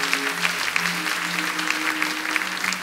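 Worshippers in a church burst into sustained applause, a thick, even patter of many hands clapping together at moderate volume with no break.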